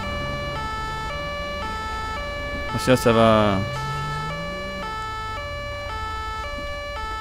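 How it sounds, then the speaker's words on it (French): Wailing police siren on an Audi A4 patrol car in a GTA 5 police mod, steady and loud throughout, with someone speaking French briefly over it partway through. "j'aurais dû éteindre ma sirène."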